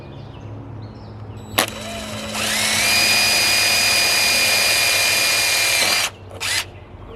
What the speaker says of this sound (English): I should be able to drill right against it.